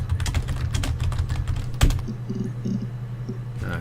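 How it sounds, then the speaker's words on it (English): Keyboard typing in the video game Her Story: a quick burst of close key clicks, one sharp louder tap, then a few sparse keystrokes over a faint low hum. "Just try typing Peter."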